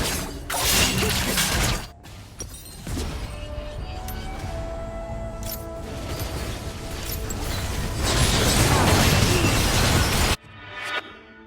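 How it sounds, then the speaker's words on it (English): An enemy turret crumbles during a Wild Rift match: a long, loud stretch of grinding, creaking mechanical collapse and shattering debris, dense game noise throughout, cutting off abruptly near the end. "Enemy turret destroyed."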